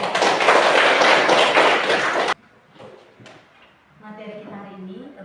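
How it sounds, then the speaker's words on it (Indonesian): A classroom bursts into dense applause for a student named Erik, lasting about two seconds before cutting off abruptly, after which a voice talks quietly. "Tepuk tangan dulu untuk Erik."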